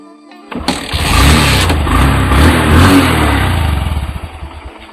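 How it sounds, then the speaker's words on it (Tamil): A Honda Shine motorcycle with a weak, run-down battery starts after a short pause, then settles into a loud, close, steady idle with a slight rhythmic throb that softens toward the end. "வாங்க வண்டியை ஸ்டார்ட் பண்ணி காட்டிடுறேன்"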